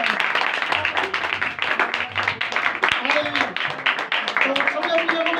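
Dense, steady clapping from a congregation at a united church gathering in Pakistan, filling the whole stretch at moderate loudness, with voices mixed in beneath the applause.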